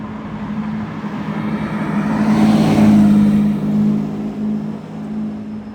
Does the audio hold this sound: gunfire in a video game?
no